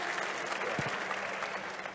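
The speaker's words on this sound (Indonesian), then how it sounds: "tepuk tangan dulu semuanya" An audience at an Indonesian discussion event applauds, a thick, continuous patter of many hands clapping at moderate loudness, with a brief low murmur partway through.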